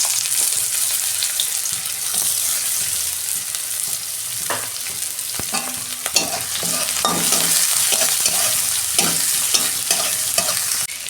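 Onions fry in oil in a wok, giving a steady close sizzle broken by repeated scraping and clattering stirs of a spatula, with no voices.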